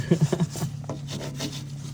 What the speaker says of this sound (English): Start brushing the brake pipe up.